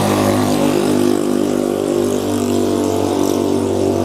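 Motorcycle exhaust drones loud and steady close by, a continuous engine rumble with a low throbbing hum and no breaks.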